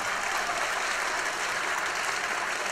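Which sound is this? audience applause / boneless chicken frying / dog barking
audience applause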